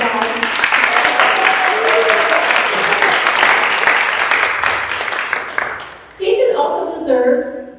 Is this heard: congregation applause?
yes